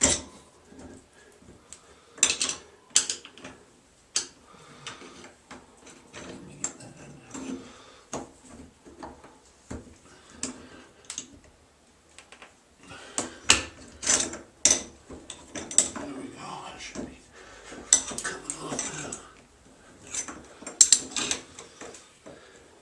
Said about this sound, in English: Now we're using that valve wrench.